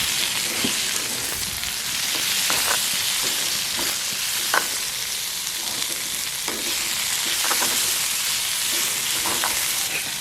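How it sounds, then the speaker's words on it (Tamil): Cumin frying in a pan and being stirred with a steady hiss and sizzle, with the scrape of a spoon repeating every second or so throughout, no talking. "இதை வடிவாக ஒரு கையிலாத்தோடையும் சேர்த்து கிளறிட்டு இந்த தக்காளி பழத்தையும் போட"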